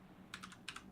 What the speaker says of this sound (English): I'm gonna type dot character